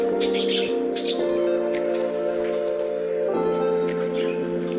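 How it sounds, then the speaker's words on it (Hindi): Pet flying pigeons in a Multan bird loft call and squawk close by, with overlapping tonal chirps and bursts of cooing, alone without speech. "ये हमारे उड़ने वाले कबूतर माशाल्लाह।"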